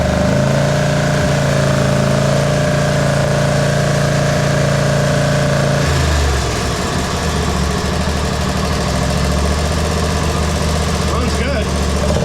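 A 1999 Craftsman lawn tractor engine, started by jumping the solenoid, runs loud and close at a steady idle, then its pitch drops and changes partway through while it keeps running, with someone talking over it.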